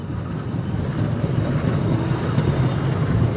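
A low, steady rumble of a vintage locomotive shunting a long rake of passenger cars for the Sawunggalih train, growing slightly louder as it continues, with no one talking.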